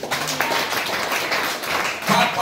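A church congregation clapping for the Lord during a service, a dense wash of hand claps sustained for a couple of seconds, fairly close and full.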